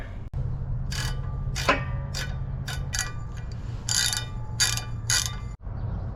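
A hand ratchet loosening 11mm bolts on the drive shaft of a 2003 Yukon Denali with a 4L65E transmission, giving several sharp, close bursts of rapid clicking separated by short pauses over a low steady hum.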